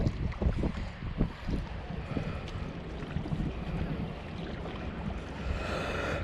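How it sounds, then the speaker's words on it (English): Wind gusts across a fishing jetty, a steady rumbling buffet with faint water wash and light rustling in the background, continuous and with no talking. "It's pretty windy today."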